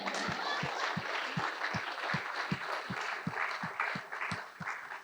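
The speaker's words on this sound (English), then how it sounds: "Big up round of applause for it." Audience applause at a Bangalore literature festival crime-writing session: a steady wash of many hands with a regular, rhythmic beat of thumps running through it, fairly full and sustained across the moment.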